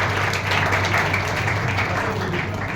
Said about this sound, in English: We'll all a huge round of applause to Pastor Solomon